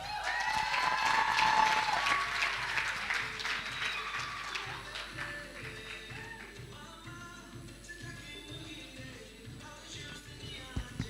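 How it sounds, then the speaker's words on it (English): Loud audience applause fills a hotel ballroom at a debate organization's tenth anniversary celebration in Kigali as an alumna is called up, the dense clapping strongest at first and then gradually thinning out. "A round of applause for Benita"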